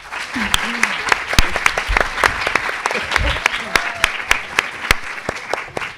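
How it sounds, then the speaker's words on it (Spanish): Students from Liceo 7 are applauded at a university science outreach event, a bed of crowd clapping punctuated by sharp, close individual claps, with voices calling out over it. "Un aplauso para el Liceo 7"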